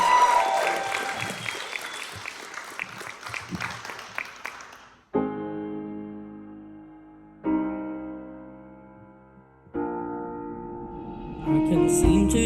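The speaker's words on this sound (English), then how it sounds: "Round of applause, please, for Jaden." An audience claps and cheers for a singer at a Welsh talent show's uptempo challenge, loud and dense for about five seconds, then fades out as music begins with sustained piano-like chords.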